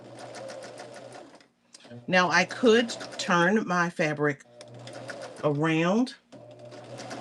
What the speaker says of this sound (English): I'm just going to sew one after the other after the other.